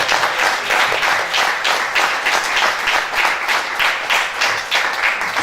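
Audience at a live music show in France applauds steadily throughout, a dense, sustained wash of clapping with no voices breaking through.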